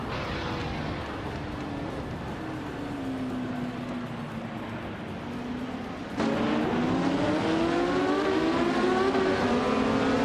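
A 1970 Chevrolet Camaro engine in a racing video game, a steady droning tone that rises in pitch as the car accelerates, getting louder after a sharp shift partway through.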